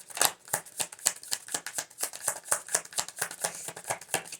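Rapid, rhythmic riffling of a deck of cards being shuffled up close, a steady flurry of crisp flicks with no voices.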